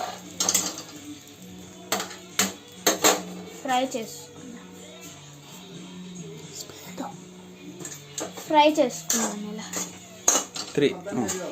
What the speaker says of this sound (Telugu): ఇలా బ్రెడ్ స్లైసెస్ని వేసేసుకున్న తర్వాత ఒక 2-3 మినిట్స్ దీన్ని ఇలా ఫ్రై చేసుకుందాం